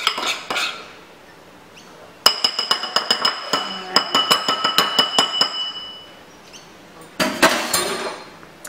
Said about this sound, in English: Give that one another stir just to show you guys.